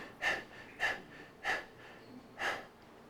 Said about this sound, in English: we stop breathing and we start breathing shallowly